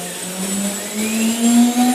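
A CNC spindle on a Syntec controller winds up to 15,000 RPM, a steady motor whine with a tone that climbs and settles, over a constant broadband hiss, with no talk.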